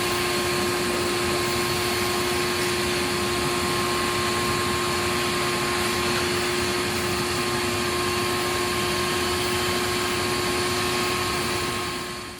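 Vacuum cleaner sucking debris out of freshly drilled anchor holes in a shop floor, a loud, steady, unbroken roar with a fixed whine that holds for the whole stretch and tapers slightly at the end.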